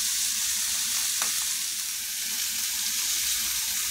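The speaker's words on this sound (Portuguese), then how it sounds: "Vou refogar aqui, ó." Kale with chickpeas and sardines sautéing in a pan, a steady close sizzle and hiss running throughout with one brief stir or clink near the middle.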